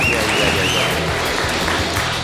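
Studio audience at a French television game show applauding a contestant after a timed driving lap, a loud, dense, steady wash of clapping with a faint voice and some background noise underneath.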